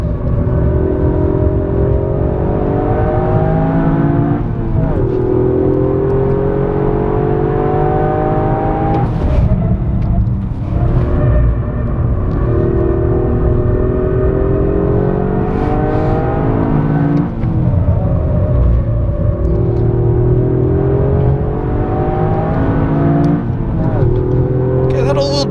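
An all-wheel-drive Toyota Yaris accelerates hard on a race track, its engine droning loud and continuous with rising pitch sweeps through repeated gear changes, heard close throughout.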